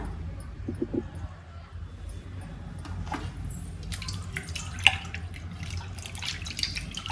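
Hands being rinsed under a running kitchen tap while rice-flour karapusa is prepared, a steady trickle of water with soft drips and splashes, no voices.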